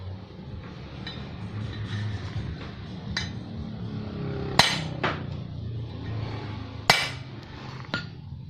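A hammer strikes a center punch made from an engine valve, a few sharp metallic clinks spaced seconds apart over a low steady background hum.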